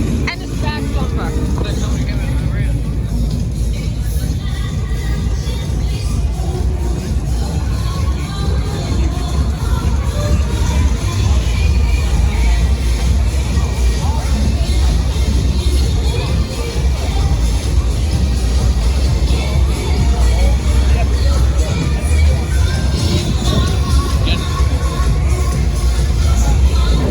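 A crowd filling the street at a Friday night muscle car meetup, with a loud, steady wash of chatter and nearby voices talking over a low rumble of traffic and idling engines throughout.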